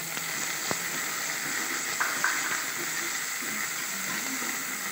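Shredded coconut and spices sautéing in a pan for spicy kuzhi paniyaram, giving a faint, steady sizzle and hiss with a few soft clinks, no voices.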